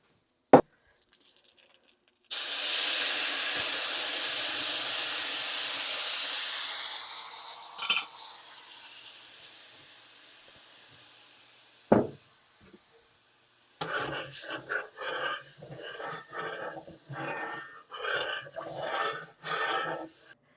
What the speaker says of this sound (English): now we're going to add some of that beef broth into the pan and not waste all that flavor